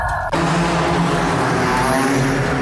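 Cars drifting in an indoor show arena, loud engines roaring and tires squealing continuously after a sudden onset, close and sustained with no talk.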